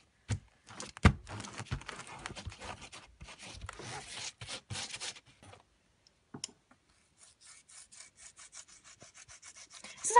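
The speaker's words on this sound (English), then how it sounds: "This is how to really get those scratches off your iPod." Something being rubbed briskly against an iPod to buff off scratches, a dense run of close scratchy rubbing strokes that pauses briefly midway and then resumes.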